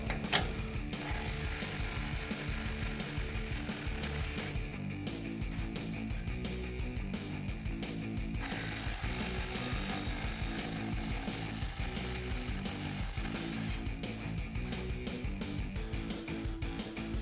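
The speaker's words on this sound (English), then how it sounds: "same 14mm socket for these 2 bolts as well" Rapid, continuous ratchet clicking from a ratchet wrench with a 14mm socket loosening exhaust bolts on a 2014-2021 Toyota Tundra 5.7L, close and steady throughout with short pauses in the stroke rhythm.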